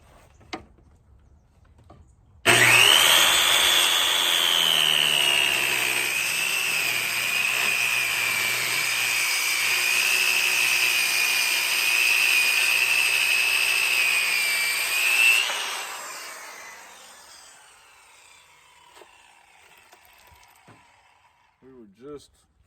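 A power saw cuts through a rough-cut lumber slab in one loud, steady whine that lasts about thirteen seconds, then winds down to quiet handling noise.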